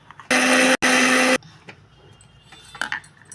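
A mixer grinder whirs loudly as it grinds flax seeds for spice powder, one short burst, a brief pause, then a second longer burst, followed by faint clinks and rattles.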